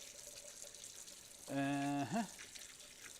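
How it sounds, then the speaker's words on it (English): Tap water rushes over hands being washed at a sink while baking, a steady soft hiss throughout, briefly overlaid by a short voiced murmur. "This part probably sounds pretty bad because of the rushing water over my hands here."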